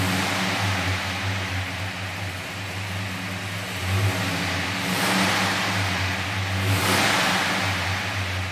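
A 1964 Plymouth Belvedere with a big-block Mopar competition engine revs steadily and loudly, its deep rumble swelling in two stronger pulls near the middle and end, with no talk.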